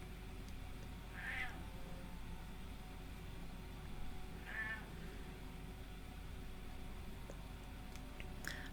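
A cat meows twice, about three seconds apart, moderately close over a steady low background hum.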